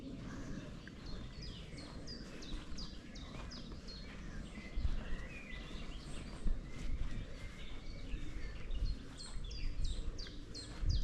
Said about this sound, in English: You might even hear the birds tweeting.